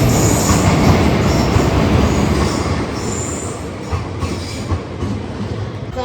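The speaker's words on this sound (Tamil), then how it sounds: "ட்ரெயின் வந்துருச்சு." A loud passenger train rumbles in and slows, wheels squealing and rails clacking, a heavy close roar that eases off toward the end.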